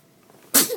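A single sharp sneeze bursts out after a quiet moment, close and loud, followed by a brief trailing breathy sound.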